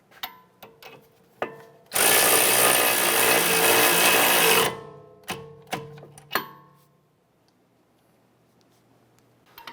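A wrench tightens the nut on a sway bar end link of a 2009-2015 Honda Pilot, with sharp metallic clicks and taps around a burst of loud, continuous ratcheting or power-tool whir.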